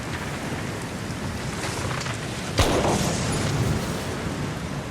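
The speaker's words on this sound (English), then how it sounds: "I heard a gunshot that was pretty close." A single sharp gunshot cracks out midway through, loud against a steady background of heavy rain.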